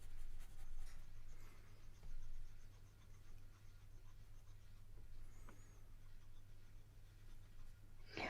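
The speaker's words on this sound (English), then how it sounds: "I'm letting my pencil flatten out because I don't want lines. I want just a flat block of color." A pencil with its tip laid flat shades a solid block of color on paper, making a soft, continuous scratchy rubbing with an even back-and-forth rhythm beneath a low steady hum.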